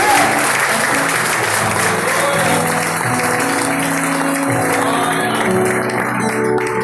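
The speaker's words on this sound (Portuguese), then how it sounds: "Quantos podem aplaudir ao Deus da palavra?" A church congregation applauds loudly and steadily throughout, a dense wash of clapping with music and voices underneath.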